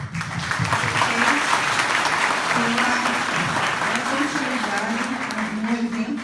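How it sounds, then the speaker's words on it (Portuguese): An audience at an Umbanda conference gives a sustained round of applause, with dense, loud clapping filling the room. A voice keeps talking over it. "salva de palmas"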